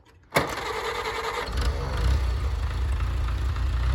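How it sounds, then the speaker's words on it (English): A 1949 Farmall Cub tractor engine cranks with a sharp catch and fires up quickly, then settles into a steady, loud, rumbling idle. "Now that the tractor is on"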